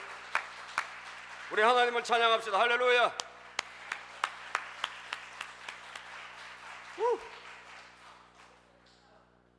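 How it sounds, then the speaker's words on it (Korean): A church congregation at a Korean worship service claps in sharp, evenly spaced beats, while a voice speaks loudly and briefly over the rhythm before it trails off. "박수 한번 쳐봅시다"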